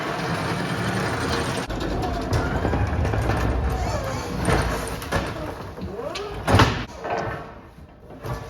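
A warehouse loading dock door rumbles and slides shut at a truck bay, a long, loud mechanical closing with a heavier clank near the end, set against the hum of the dock.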